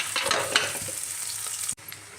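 Onions, green chillies and curry leaves sizzling in hot oil in a pan while being stirred, a continuous bright crackle with scraping strokes, close and alone, briefly cutting out near the end.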